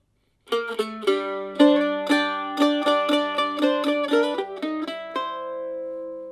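Mandolin plays a bluegrass tune, bright close plucked notes in a quick run of separate picks and slides, ending on a ringing sustained note, with no talk.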